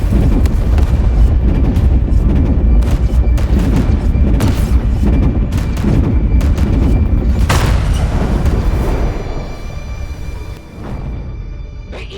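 Heavy booming salvos from ship guns in the video game WH40K Daemonhunters, loud dense rumbling blasts rolling continuously before fading toward the end.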